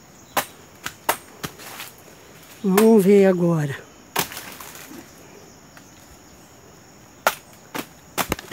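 A banana plant trunk is chopped with a blade on a rural farm: a series of sharp, close, woody chops at irregular intervals. A voice speaks briefly partway through.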